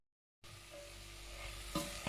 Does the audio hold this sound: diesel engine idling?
no